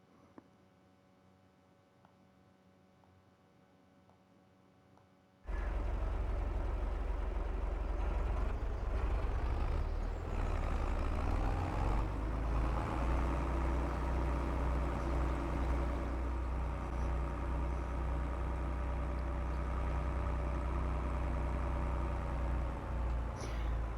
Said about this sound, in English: I absolutely love this tractor, man. I really do. I mean, just listen to it. It just sounds so good